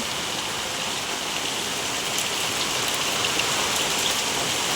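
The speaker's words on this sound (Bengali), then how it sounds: "আমাদের এখানে বৃষ্টি হচ্ছে দেখো বন্ধুরা" Heavy rain pours steadily outside during outdoor cooking, a dense, even hiss that continues unbroken and fairly loud throughout.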